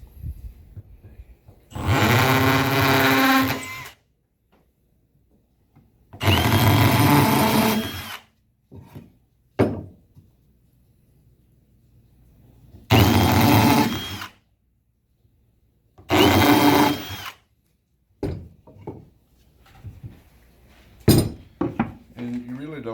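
A power drill drives screws into a wooden DIY birdhouse in four loud, sustained whirring bursts separated by quiet gaps, with brief clanks and handling knocks between them.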